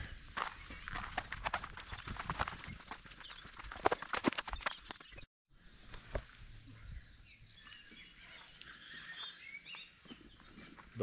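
Faint birdsong chirps in the background while close, crunching footsteps tread steadily along a hiking trail in the Valle Brosque, Tenerife.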